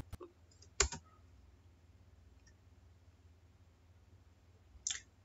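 Sharp computer keyboard keystrokes and mouse clicks while working in Tally accounting software: a few isolated clicks near the start and another pair near the end, separated by near silence.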